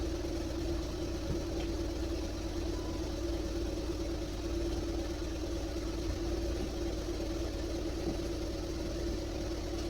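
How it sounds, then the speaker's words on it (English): A car engine idles steadily nearby, a low constant hum and rumble with no revving, running alone for the whole stretch. "the engine's running"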